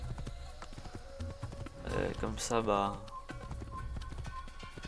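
Hooves clip-clop steadily from a horse in the Assassin's Creed video game, a rhythmic clatter of hoofbeats with a brief louder flurry midway, while someone talks over it in French.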